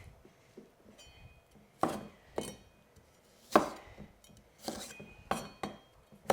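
A knife chops through the long stems of tenderstem broccoli on a board in a kitchen, giving a handful of sharp, separate cuts at irregular intervals with quiet pauses between them.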